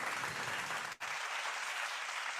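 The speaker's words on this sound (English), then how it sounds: "I'm gonna give you a clap for that, because that's a good question." Clapping in a talk about self-worth, a steady stretch of applause with a brief break partway through before it resumes, fairly faint.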